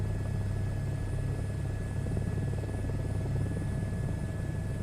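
A helicopter in a flight simulator drones steadily with a low, constant rotor thump and engine hum, close and unbroken throughout, no speech.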